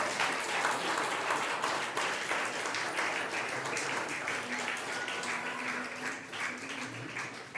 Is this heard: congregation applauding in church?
yes